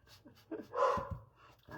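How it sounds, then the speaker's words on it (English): A house dog in a basement craft area gives a couple of short, muffled barks and huffs at moderate distance, brief and fairly quiet, with faint breathing between them. "my dog is barking"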